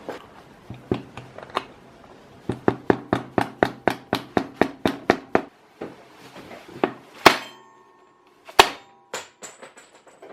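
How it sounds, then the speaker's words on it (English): Repeated sharp metallic blows of a small mallet striking a steel strip to drive out a greasy telescope altitude bearing, a quick run of about a dozen close, loud hits, then a pause and a few scattered harder strikes. "And then we get our little mallet and our strip of steel."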